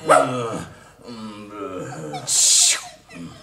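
Dog sound effect in a musical children's story: close, fairly loud barks and whining whimpers in quick succession, followed by a brief hissy burst.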